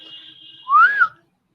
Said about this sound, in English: He put his forefingers between his teeth and whistled shrilly